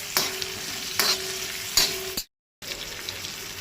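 A medium onion, sliced lengthwise, sizzles steadily in a pan for Goan jackfruit seed tonak, with three sharp stirring scrapes, then a brief cut to silence before the frying hiss resumes.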